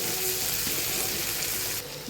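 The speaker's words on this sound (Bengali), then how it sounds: "এবার কুচনো পেঁয়াজ দিয়ে দেবো। পেঁয়াজগুলো ভালো লালচে করে একটু ভেজে নেব।" Chopped onions frying in hot oil with whole spices, a steady close sizzle that drops a little near the end.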